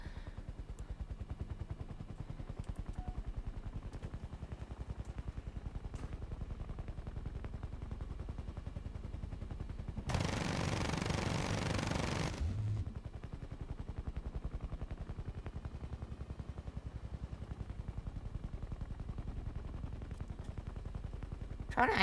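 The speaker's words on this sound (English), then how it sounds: "Got a cannon strapped onto this shit box." An aircraft cannon fires in a video game, a dense continuous burst of rapid shots lasting a couple of seconds and standing out above a quieter engine drone and background game sound.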